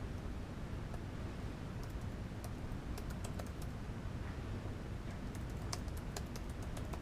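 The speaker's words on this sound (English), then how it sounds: "I'm going to type it wrong because I can't spell." Rapid clicking of keys on a computer keyboard as a title is typed, irregular taps fairly close over a steady background hiss, with no talking.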